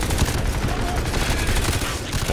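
Rapid gunfire from a rifle set to single-shot mode in the video game Crysis 3, a dense, loud run of shots packed closely together with no gaps of quiet.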